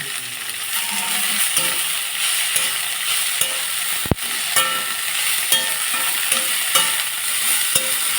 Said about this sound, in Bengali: কালো জিরে আর গোলমরিচটাও ভেজে নিলাম